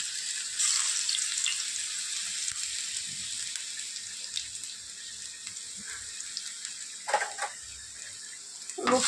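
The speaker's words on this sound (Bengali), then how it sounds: "রসুনটা একটু লাল লাল করে ভেজে নেব।" Garlic fries in hot oil in a kadai wok, giving a steady, fairly quiet sizzling hiss that runs throughout, with a few brief clatters near the end.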